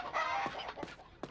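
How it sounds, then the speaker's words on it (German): Chickens cluck softly in the video game The Last Story, a few short, faint clucks against quiet background ambience. "Ah, Hühner."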